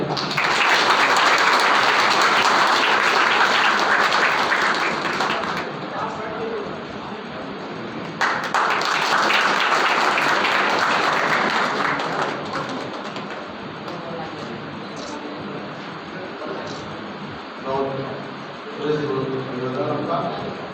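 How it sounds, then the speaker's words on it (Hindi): Loud, sustained applause from a crowd at a school annual exam results ceremony, a dense wash of clapping that fades, then swells again before settling under someone speaking over a microphone. "जोरदार ताली।"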